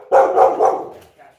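An excited dog barks in a quick burst of three or four loud, close barks, followed by a softer trailing yip.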